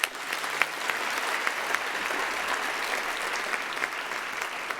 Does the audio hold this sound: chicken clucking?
no